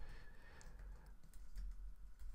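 Typing on a computer keyboard while building a React and TypeScript typing-speed game; close, quiet, irregular key clicks continue throughout with no talk over them.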